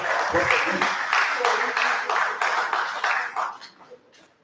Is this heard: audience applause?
yes